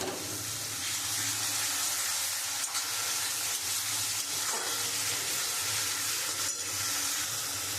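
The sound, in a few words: beaten yogurt added to frying masala, sizzling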